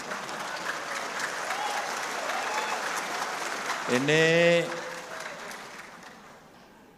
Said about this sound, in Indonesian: Tenang, tepuk tangan lagi.